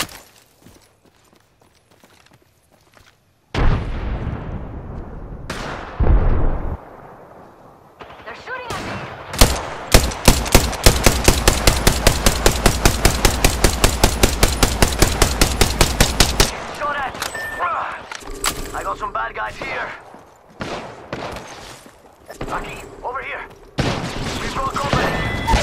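Rapid automatic gunfire in the Apex Legends battle royale game, a long sustained burst of sharp shots after scattered single cracks, loud and close, with game voice lines and effects around it.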